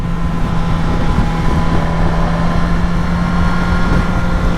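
A KTM 990 Duke motorcycle with its stock exhaust can, a steady loud engine drone with a constant low hum under wind rush while riding on the road.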